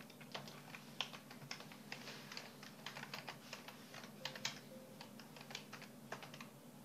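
Fast, irregular keystrokes on a computer keyboard as commands are entered, close and fairly quiet over a low steady hum, with no talking.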